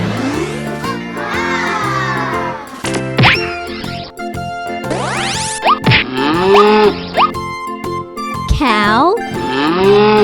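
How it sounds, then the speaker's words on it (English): Cow moos as part of a farm animal song for kids, several drawn-out lowing calls spread across the clip over loud, bouncy backing music with boing-like effects. "Cow."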